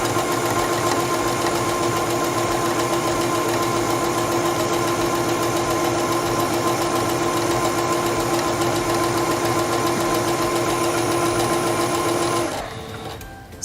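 A quilting sewing machine stitches fabric at a fast, even, motor-driven rhythm, loud and close for about twelve seconds before it abruptly winds down and stops.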